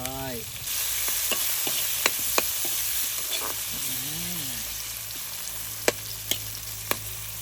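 Turmeric and tomatoes stir-fried in a pan for a Shan-style dish, a steady loud sizzle with scattered sharp clicks of a utensil against the pan.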